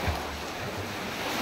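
Sea waves wash over a pebble beach at a cove with many caves, giving a steady, close surf wash with low rumbling swells and wind buffeting the microphone throughout.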